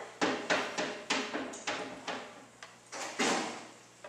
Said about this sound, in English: You stay here. I'll get the door.